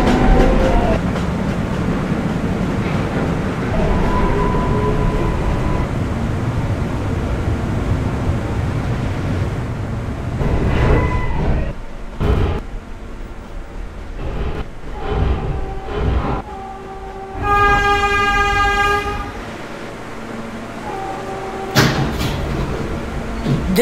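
A subway L train running in a video game: steady rumbling car noise, door chimes and thuds, then a rising tonal whine as the train moves, loud and close with no voices.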